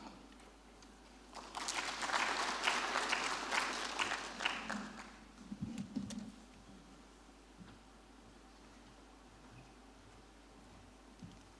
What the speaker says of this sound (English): Another round of applause for the DG, a louder one.